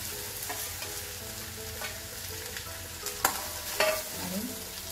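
Grated potato being stirred through a sizzling tempering of oil and green chilli pieces, with a steady low fry hiss and a few sharper spoon scrapes and clinks against the pan, close up and without speech.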